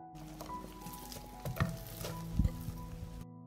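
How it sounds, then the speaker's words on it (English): Meat sizzles in olive oil in a pan on the stove, a steady soft crackle broken by a few louder stirring scrapes, with no talk. "I put the pan on the stove and fry everything until done."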